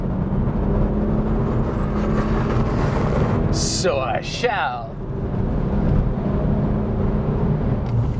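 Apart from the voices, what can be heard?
BMW 1M Coupe engine accelerating hard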